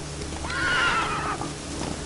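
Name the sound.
horse Roach neighing, from video game Witcher Wild Hunt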